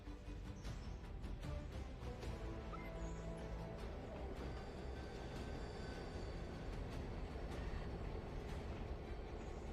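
A video game locomotive, Piss 2158, runs with its fuel tank filled with salt, giving a loud, steady, continuous engine rumble with rattling mechanical texture throughout and no pauses.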